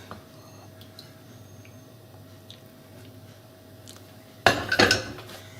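Clinking of a whisk against a bowl as two eggs are beaten into potato pancake batter, a quiet room tone for several seconds and then a short, loud burst of rapid metallic scraping and tapping near the end.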